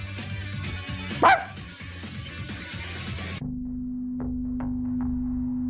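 A voice imitating a dog gives a short bark amid background music, followed by a few quick yip-like sounds after the music shifts to a steady tone.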